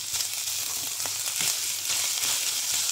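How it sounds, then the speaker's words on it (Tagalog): Minced beef and garlic fry in a pan for a Korean beef bowl, giving a steady close hiss of sizzling oil with faint scraping and stirring ticks throughout. "Sa-fry natin yung minced beef. Saka yung garlic fish."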